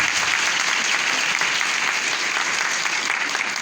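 An audience claps loudly and steadily throughout at a convention gathering, a dense, sustained round of applause with no talk.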